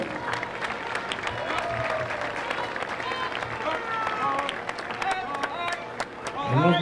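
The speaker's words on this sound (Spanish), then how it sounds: "Un aplauso para ellos." Parade crowd applauding a passing ROTC unit at the Fiestas Patrias parade in Santa Ana, scattered clapping and cheering from a street crowd, with people talking throughout.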